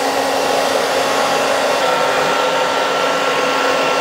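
A hair dryer blows steadily and loudly at close range at a barber's, drying curly hair after a scissor cut, its whooshing airflow continuous and unbroken with no talking.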